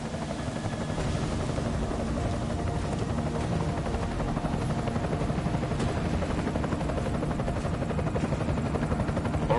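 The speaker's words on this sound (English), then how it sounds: "Enemy helo sighted." An enemy helicopter flies overhead in a video game, a continuous loud rotor thump and turbine roar holding steady for about ten seconds without speech.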